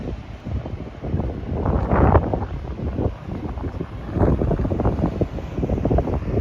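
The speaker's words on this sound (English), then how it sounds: "Just got windy." Strong wind buffets a microphone outdoors on a street in Etobicoke, Toronto, as a steady low roar with loud gusts rising and falling throughout, close and heavy, with no talking.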